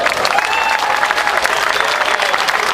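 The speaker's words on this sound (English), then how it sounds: "Let's give them a round of applause." An audience at a motorcycle ride rally claps steadily and evenly throughout, a dense patter of many hands with no voices rising above it.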